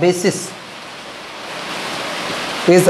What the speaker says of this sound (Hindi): बारिश की आवाज़ आएगी इसमें आज